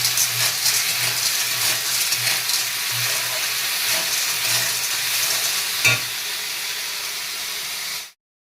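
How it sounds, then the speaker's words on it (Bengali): Potatoes fry in hot oil in a pan with a steady, loud sizzle and occasional stirring scrapes, cutting off abruptly near the end. "আলুটা ভেজে রাখছি"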